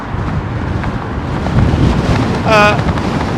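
Strong crosswind at London Heathrow Airport buffets the microphone in a steady, loud rumble, with a brief faint voice surfacing near the end.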